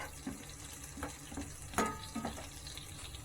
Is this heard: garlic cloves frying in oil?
yes